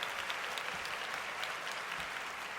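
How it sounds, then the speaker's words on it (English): Applause from a small group, a brief, steady patter of clapping hands at moderate volume, slightly distant, with no talk over it. "Give me a round of applause."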